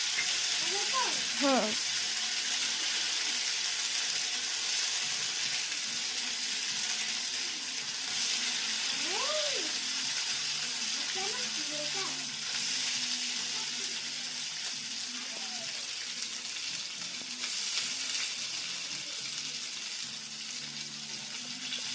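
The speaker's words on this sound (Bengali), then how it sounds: "এবার টমেটোটা দিয়ে দাও" Tomato frying in a hot pan for a Bengali fish curry, a continuous close hiss and sizzle running throughout, with short spoken remarks breaking in now and then.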